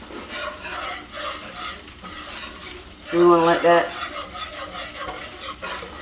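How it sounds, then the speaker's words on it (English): Spoon scraping and stirring through a thick pot of simmering cheese grits, with soft bubbling and popping, briefly louder midway, with a short spoken phrase over it. "As soon as you stop stirring, it should start bubbling back up, which it's doing."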